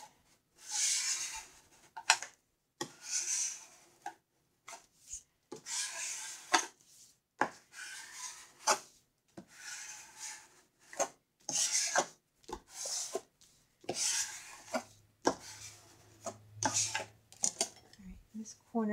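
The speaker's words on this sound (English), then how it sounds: "I'll use this just to scrape it to make sure it is down" Repeated scraping strokes from a tool pressing paper flat onto a glued surface at an art party, short rasping bursts in an uneven rhythm with brief pauses, quiet and close.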